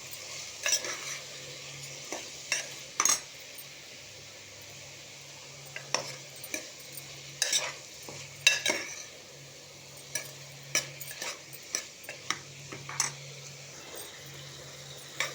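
Ridge gourd sautéed with curry leaves and green chilli for kootu, a quiet low sizzle under many irregular spatula scrapes and knocks against the pan, close by with no talking.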